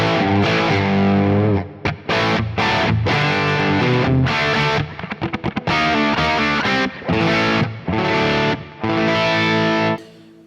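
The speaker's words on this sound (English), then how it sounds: "Great sort of crunch rock tone." A 1983 Les Paul Custom electric guitar plays a crunchy rock riff through a Plexi amp, loud, close and distorted, with chords cut by short muted stops and a rapid choppy passage.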